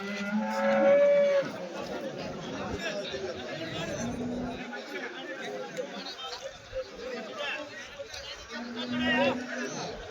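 Cattle low repeatedly, with several long, drawn-out moos, at the Sunday cattle market in Chintamani, over a busy hum of people chatting nearby.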